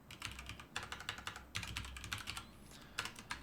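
Steady, close typing on a computer keyboard while entering a chat message into a ListBox interface, with quick bursts of crisp keystrokes separated by short pauses and no talking.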